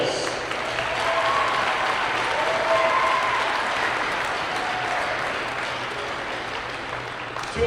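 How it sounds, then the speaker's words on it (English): Crowd applause for the game officials at a high school girls basketball game, Star Valley versus Kelly Walsh in Wyoming, steady and sustained through the gym for several seconds before thinning out. "please join us in giving a big round of applause to our game officials"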